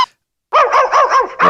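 A pit bull barking in the background of a phone call into a boxing podcast, a quick burst of five sharp close barks after a brief pause, loud and clipped.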